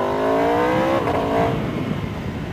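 An Aprilia RSV4 1100 Factory sport motorcycle engine winds up quickly, a brief shift breaking the rising whine before it trails off into rushing wind noise.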